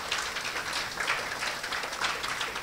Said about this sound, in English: let's give the staff of Caroni Hindu School a lusty round of applause